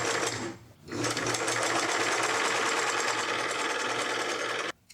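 Sewing machine stitching a straight craft seam, its motor humming loudly and steadily throughout with a brief pause near the start and a quick stop at the end.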